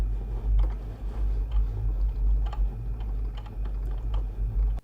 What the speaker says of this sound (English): we can just simply hit the play button and it's going to start cutting out the material